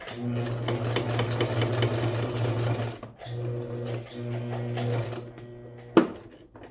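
A sewing machine stitches fabric for a baby bandana bib, running in a loud, steady mechanical hum close by. It stops briefly, resumes, then halts near a corner with a sharp click.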